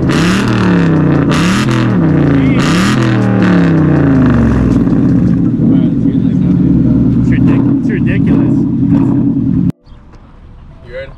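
A muscle car, either a 10-speed 5.0 Mustang GT or a 6.4 Hemi Charger, revs loudly and deeply up close in three rising-and-falling blips, then settles into a rumbling idle before cutting off abruptly.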